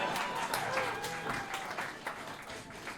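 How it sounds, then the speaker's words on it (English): A comedy roast crowd keeps up a continuous, moderately loud round of clapping with sharper individual claps poking through, and no one talking over it. "Keep on clapping."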